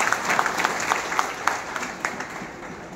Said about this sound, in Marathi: आपण एकदा महिलांसाठी टाळ्या वाजवून त्यांचं अभिनंदन करू.